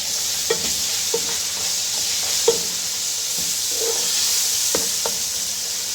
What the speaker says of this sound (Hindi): 1 टीस्पून लहसुन का पेस्ट और 1 टीस्पून हम अदरक का पेस्ट ये डाल के तो भूनेंगे साथ